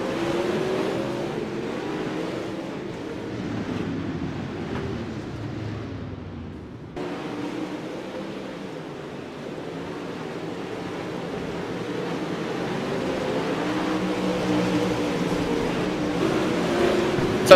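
Pro Late Model race cars thunder out of turn four at Limaland, a steady, loud roar of several engines that swells slightly as the pack passes.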